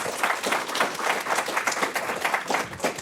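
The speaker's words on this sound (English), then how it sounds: "Let's give them one more round of applause." Audience applause for panelists at a parents-and-caregivers forum session, dense continuous clapping from a room of people at steady moderate volume.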